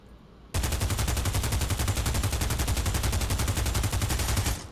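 A submachine gun in Pavlov VR fires one long uninterrupted burst, a loud, fast and even rattle of shots that runs for over four seconds after a short quiet lead-in.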